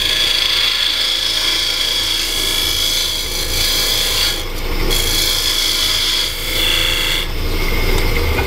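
A maple burl box spins on a wood lathe while a tool shapes it, giving a continuous loud scraping and rasping hiss with brief dips where the cut eases off.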